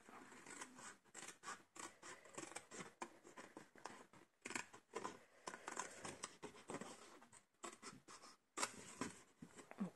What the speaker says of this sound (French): On coupe sur le pli, puis on coupe en biais sur le volet.